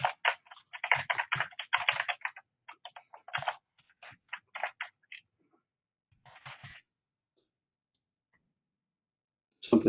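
A computer keyboard being typed on to enter a new password, with quick bursts of clicky keystrokes, a short pause, a few more taps, then near silence.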